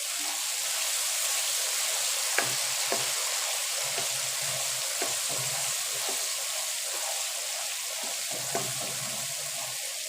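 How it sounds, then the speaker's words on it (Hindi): A spice masala with nutmeg and mace powder roasts in a pan, giving a soft, steady sizzling hiss with occasional faint clicks of stirring throughout. "अब इनको अच्छी तरह से भून लेंगे।"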